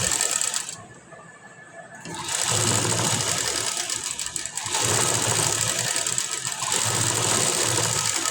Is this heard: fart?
no